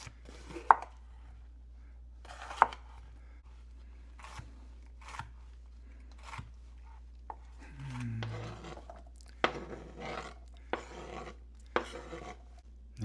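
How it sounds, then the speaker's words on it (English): A knife chops onion, celery and green pepper on a board in quick, light, crisp strokes, spaced taps turning into steady bursts of fine chopping, close and fairly quiet with no talk. "So we're going to chop these up pretty small."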